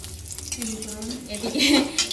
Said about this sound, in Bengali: জিরে ফোড়ন দিয়ে দিচ্ছি, শুকনো লঙ্কা